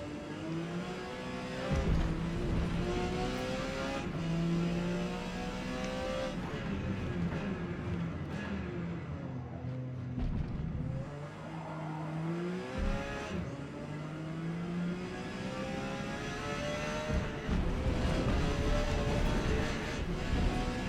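A Porsche 956 race car engine in the Forza Motorsport racing game at Homestead Miami roars continuously, its pitch rising and falling through gear changes and revs as the car slides around the track, loud and steady.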